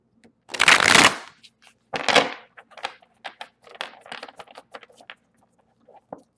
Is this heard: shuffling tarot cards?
yes